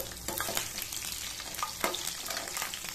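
Four cloves of garlic, sliced lengthwise, fry in hot oil with dried red chillies for a fenugreek kulambu. A busy, close sizzle runs throughout, broken by repeated clicks and scrapes of a stirring spoon, and no one speaks.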